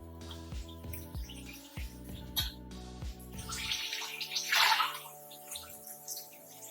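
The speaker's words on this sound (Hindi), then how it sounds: "अब मैं इसमें पानी डालूंगी।" Water splashes and pours into a pot of chicken pulao masala, a steady liquid rush swelling midway, with faint clinks and a background hum.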